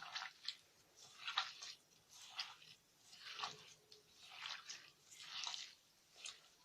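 Lemons squeezed by hand to release juice, a series of soft wet squishing and dripping bursts coming in an uneven rhythm, close and faint.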